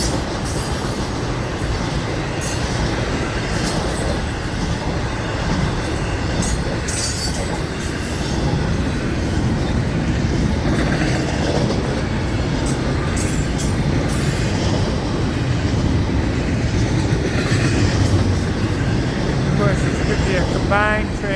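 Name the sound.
FEC intermodal freight train passing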